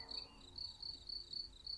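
Crickets chirp outdoors in the evening, a thin high trill pulsing in short regular bursts about twice a second over a quiet, faintly hissing background.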